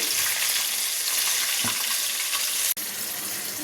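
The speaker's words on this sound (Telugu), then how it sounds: "చూసారా పోపు బాగా వేగిపోయిందండి" Tempering spices sizzle in hot oil in a pan for raw mango pulihora, a steady loud hiss that runs throughout with a single sharp click near the end.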